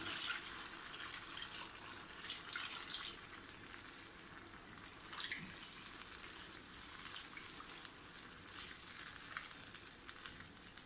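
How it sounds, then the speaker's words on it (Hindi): A cup of water is poured into a hot cooking pan while making Patiala chicken with almonds, giving a steady hissing, sizzling wash that runs continuously and fairly quietly throughout. "डाल देंगे 1 कप पानी।"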